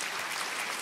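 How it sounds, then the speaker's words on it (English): Brief burst of audience clapping at a student speaker event, a steady dense patter with no pauses, moderately loud, with no voices over it. "Yeah, we can clap for that"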